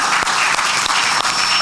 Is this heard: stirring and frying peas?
no